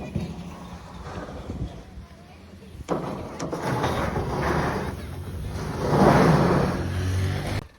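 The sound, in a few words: tractor being driven in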